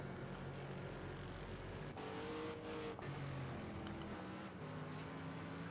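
A GT3 race car in a racing video game, set at Brands Hatch, drives through the hairpin with a steady, droning engine note that shifts in pitch as it slows and accelerates, heard at moderate distance without talk.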